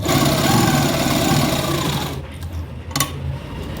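An electric sewing machine runs a center line of stitching on a kameez neckline, loud and steady for about two seconds, then stops, leaving a quieter room with a brief burst of fabric handling.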